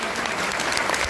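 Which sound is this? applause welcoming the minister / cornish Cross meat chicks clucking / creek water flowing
applause welcoming the minister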